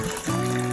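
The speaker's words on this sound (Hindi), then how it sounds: "इतना पानी डालेंगे कि इसमें राइस अच्छी तरह से डिप हो जाए।" Hot water poured into a pot of rice with meat for Kabuli pulao, a steady close liquid gush that grows fuller partway through and runs on unbroken.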